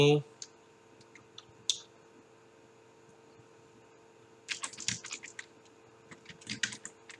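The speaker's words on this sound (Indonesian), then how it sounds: "Kita ketikkan di sini" Computer keyboard typing in Creator Studio: an isolated click early on, then a dense burst of close, quick keystrokes in the second half over a faint steady hum, with no voice.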